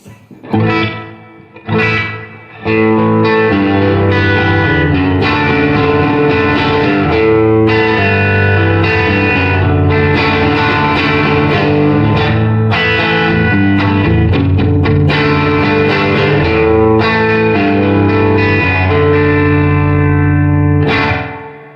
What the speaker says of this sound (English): See how it gets that kind of tail off, almost like reverb on the short setting?